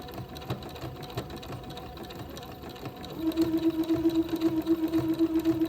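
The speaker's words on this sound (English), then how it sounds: "just kind of start zigzagging, catch the fold of the fabric on the left and the entredeaux hole on the right" A sewing machine zigzag-stitches the folded hem of a dress, starting after a few seconds of handling noise and then running steadily with a rapid, even mechanical whir and chatter, close up.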